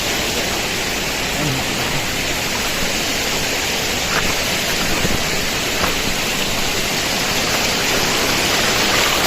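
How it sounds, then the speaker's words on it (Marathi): A steady, full roar of rushing water fills the whole stretch without a break, a waterfall on the trek to Takmak fort near Virar heard from fairly close by. "पुढे वॉटरफॉल आहे"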